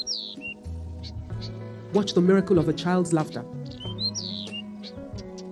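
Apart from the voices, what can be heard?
birds chirping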